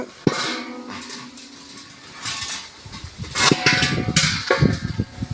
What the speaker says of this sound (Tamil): இப்போ இந்த பெரிய சட்டியை எடுத்து வச்சு இதில் வந்து மிக்ஸ் பண்ணணும்.